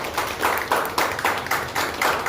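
An audience claps for an honoured guest at a welcoming ceremony, a dense crowd applause with regular rhythmic swells, fairly loud and steady, with no voices over it.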